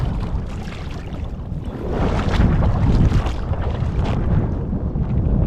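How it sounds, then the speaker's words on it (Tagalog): Strong wind roars and buffets continuously, growing louder partway through, with no voices. "Lakas na ng hangin."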